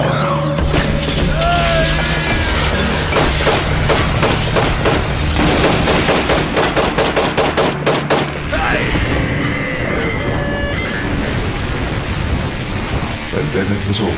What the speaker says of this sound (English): the street was filled with magic and gunfire